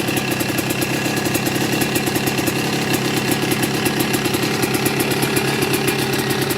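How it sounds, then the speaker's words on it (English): A 2000 CR80 big wheel dirt bike fitted with a new 1988 CR250 two-stroke motor that is still being broken in runs steadily near at hand, with a loud, rapid, buzzing pulse and no voices. "Oh, one kick. There we go. But there it is. Still breaking the motor in."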